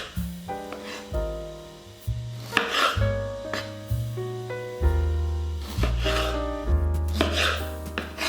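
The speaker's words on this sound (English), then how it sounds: "Let's cut our tomatoes in half." A kitchen knife cuts tomatoes in half, making soft, intermittent chopping taps on a board beneath steady, prominent background music.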